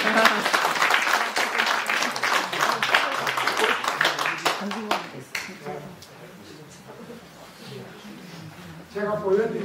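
Audience applause in a lecture hall during a special lecture at Jeonju National Museum. A full burst of clapping rings out for about five seconds, then thins and fades as a voice takes over.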